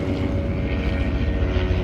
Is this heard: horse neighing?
no